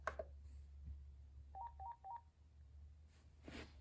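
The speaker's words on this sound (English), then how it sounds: "next, I will check the handset locator" A 2.4GHz cordless phone handset's locator page gives three short beeping tones in quick succession, faint and thin over a low steady hum, with small handling noises around them.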